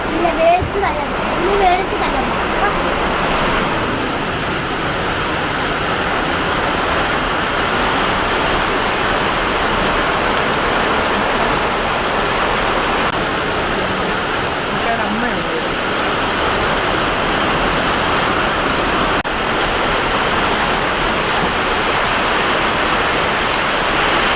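Heavy rain pours steadily and loudly throughout, a dense, continuous hiss close by, with a few faint voices in the first seconds.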